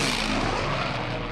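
P-40 warplane with a 1,200-horsepower Allison V12 engine passes low overhead at about 200 miles an hour, some 20 to 25 feet up, a loud, steady, broadband engine roar with no voices.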